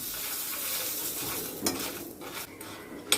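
Rice, cumin, black pepper and Byadagi chillies frying dry in a pan for Bharani rasam, with a continuous close crackling sizzle and sharp spoon scrapes and clinks near the end.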